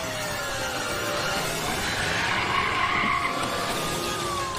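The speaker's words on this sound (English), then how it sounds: "The stolen Crown Vic crashes." A stolen Ford Crown Victoria skids on a turn toward a dirt road, tires squealing in long sliding streaks over loud engine and road roar, the screech sustained for several seconds.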